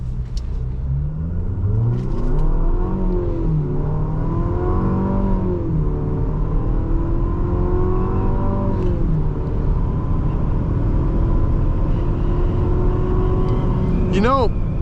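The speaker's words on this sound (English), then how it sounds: "This time I'm gonna brake boost it." A 2026 Infiniti QX60 Autograph with a roof rack launches hard from a brake-boosted start in sport mode. Its engine drones loudly and climbs in pitch through several upshifts, steady and close from inside the cabin.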